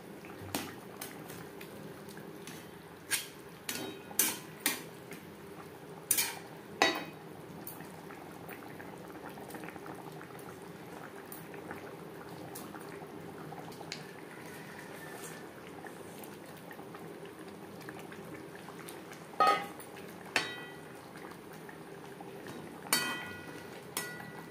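A silver carp and potato curry (jhol) with fried fish pieces, fish head and garam masala simmers in a pan. It gives a continuous soft bubbling with scattered sharper pops and spits, and no one talks.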